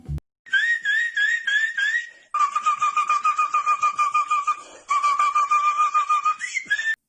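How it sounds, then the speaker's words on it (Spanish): A high, warbling whistle from the character Poseidon in a Record of Ragnarok anime fight trills in rapid pulses, in three long bursts with short pauses, loud and close. "Poseidón empieza a silbar"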